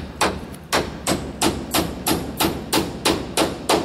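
A hammer drives nails to tack material onto an off-grid winter greenhouse, ten sharp, evenly spaced blows in a steady rhythm, close and loud.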